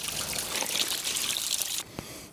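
Mountain spring water trickling and pouring steadily along the Alta Via 1 trail in the Aosta Valley, a close, even splashing that cuts off abruptly near the end.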